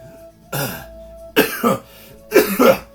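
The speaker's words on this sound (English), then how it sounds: "And just starts coughing a little." A person coughs three times, each a short, loud, rough burst close to the listener, with brief pauses between them.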